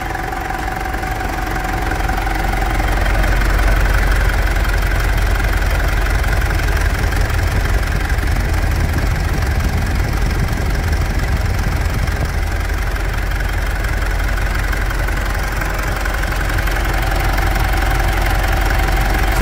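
A Mitsubishi Pajero Dakar 3.2 diesel engine cranks, catches and settles into a steady idle, its loud low rumble with faint knocking rising in the first seconds and then holding evenly, with no talking.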